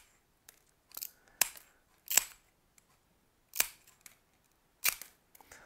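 Mosaic nippers snip through tile, making sharp separate crisp snaps about once a second. Each cut is close and fairly loud, with a brief clatter after it and quiet in between.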